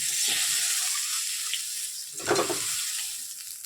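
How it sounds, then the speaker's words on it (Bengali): Fish pieces frying in a wok with very little oil give a steady, close sizzle that hisses throughout, swelling briefly midway as the pan is disturbed. "আমি ভাজতেছি তোমরা দেখতেই আছো"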